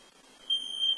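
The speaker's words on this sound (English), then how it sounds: "Anyway, the fire alarm is on." A fire alarm goes off indoors with a sustained high-pitched electronic tone that starts faint and then swells louder, sounding steadily for about a second with no voices.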